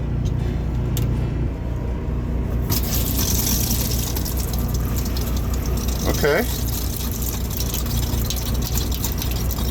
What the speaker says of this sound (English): now we hear the water pump going.